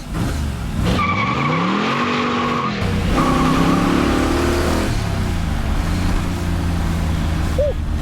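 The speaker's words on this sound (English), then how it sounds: "We've had so many big blocks get started up today." A 572 big block V8 in a 1968 Corvette shooting brake revs loudly and close up, the engine note rising and falling through sustained pulls with a steady rumble between.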